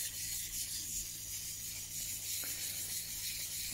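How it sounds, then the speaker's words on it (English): Steady, continuous rubbing and rasping, like fine sandpaper worked by hand over a smooth surface, with a faint hum underneath; hand sanding down a polished wooden clock counterweight. "I've just come to the last part of sanding it down"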